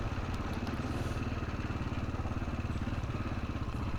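Yamaha Ténéré motorcycle riding off-road in Morocco, its engine a steady, close, pulsing low thrum under load with some clatter and wind noise, no voices.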